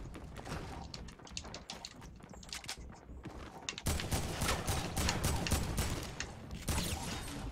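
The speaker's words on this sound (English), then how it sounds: "I'm gonna see if I can kill it with my turret." An automated turret in the Fortnite video game fires in dense, rapid clattering bursts, growing louder and busier about halfway through, heard alongside other game effects.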